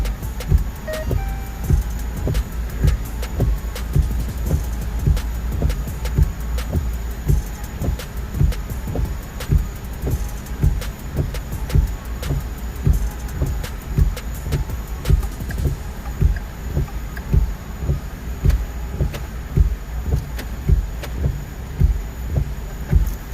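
A 2012 Ford Fiesta engine idles steadily after starting, a low rhythmic throb repeating evenly through a long stretch, heard from close by with a faint steady hiss and no talking.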